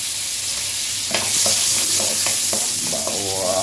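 Garlic sautéing in hot cooking oil gives a steady bright sizzle, with a few scraping stirs of a utensil close by and no voices.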